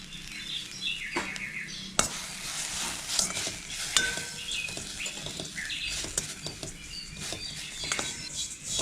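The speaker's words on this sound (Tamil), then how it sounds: "இப்போது இந்த ஃபில்ட்ரு பண்ணி வச்சுக்கிற எள்ளை இப்போ கடாயில் கொட்டி வறுத்துக்கணும்." Sesame seeds roast in a kadai with a dense, crackling patter and gritty scraping as they are stirred, close by, with occasional sharper clinks of the spoon on the pan.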